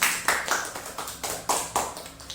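Rhythmic claps in a classroom during a teaching-practice lesson, about eight crisp, evenly spaced hand claps in a steady beat, close and distinct with quiet gaps between them.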